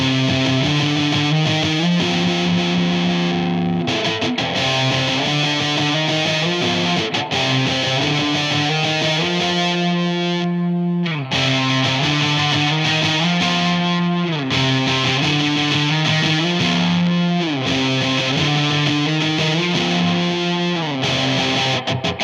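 A vintage electric guitar is played with grungy overdrive distortion, thick chords ringing out loud and sustained in a continuous riff, with brief pauses between phrases.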